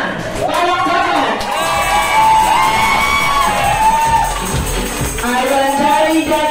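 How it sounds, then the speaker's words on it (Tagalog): Children shouting and cheering in a loud, sustained burst at a birthday party at a Jollibee restaurant, voices overlapping in rising whoops over general crowd noise, with little clear clapping. "kung sino daw yung may pinakamalakas na palakpakan at hiyawan, may extra 160 din mamaya sa kanya. Kaya naman, isang malakas na palakpakan!"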